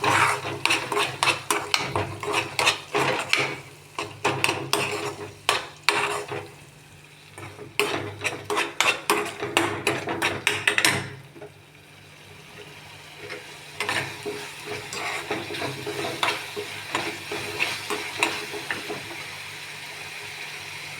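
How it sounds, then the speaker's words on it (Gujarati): A spoon stirs a spiced chutney mixture in a metal pan for stuffed bitter gourd curry, with rapid repeated scraping clinks over a soft sizzle that settle into slower, quieter stirring halfway through; no one talks. "તીખાસ પ્રમાણે ચટણી મિક્સ કરી લઉં"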